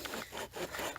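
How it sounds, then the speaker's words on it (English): Hand saw cutting through a rotten pine trunk, with close, steady rasping back-and-forth strokes and several rhythmic pulls in a brief burst. "I can tell because of the way the saw is cutting through the wood."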